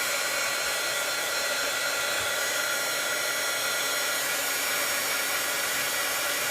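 A hair dryer blows steadily and close over drying watercolor paint on a sunflower field painting, a constant broadband whoosh with no breaks and no voices.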